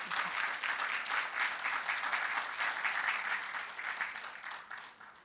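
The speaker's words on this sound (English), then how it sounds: "I would like to again give a round of applause to Dr. Nimagada for his right with us." Steady audience applause at a medical association's annual gala, a broad, even wash of many hands clapping at moderate distance that thins slightly toward the end.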